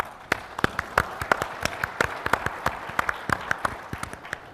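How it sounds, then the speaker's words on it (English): Scattered clapping from a tech talk audience, individual sharp claps overlapping in a light, uneven round of applause that holds steady throughout. "I think we need to give those guys a round of applause."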